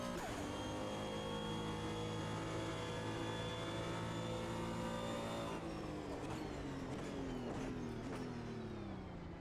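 Engine of a car in a sim racing game, a continuous loud whine held at steady revs, then dropping in pitch as the car decelerates, likely into a slow hairpin, with the tone sliding down over the final seconds.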